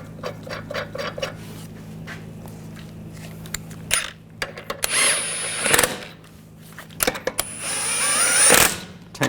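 Power tool running lug nuts onto a 2014-2018 GMC Sierra 1500 wheel, rattling clicks and short whirring bursts close by, with a higher-pitched impact whine twice building over a low steady hum.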